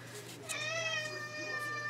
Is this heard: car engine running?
no